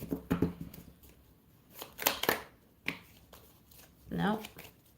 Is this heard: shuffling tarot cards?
yes